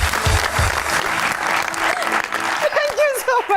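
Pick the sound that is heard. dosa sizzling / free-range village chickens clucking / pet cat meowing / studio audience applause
studio audience applause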